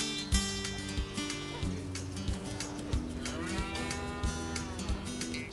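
A dairy cow that calved twins two days earlier moos in long, low, drawn-out calls, repeated several times close by, with other farm noises and faint clattering in the background.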